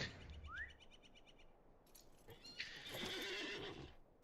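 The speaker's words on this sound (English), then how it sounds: "get on my horse." A horse whinnies loudly and clearly in the video game Lord of the Rings Online, with hooves clopping alongside and a faint game-like background texture.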